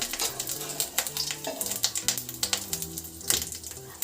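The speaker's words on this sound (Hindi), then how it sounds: "इसमें थोड़ी देर से सौटे कर लेते हैं" Ginger paste and green chilies sautéing in a pan, a close steady sizzle with quick crackling pops and scraping stirs, while a low melodic tone plays softly underneath.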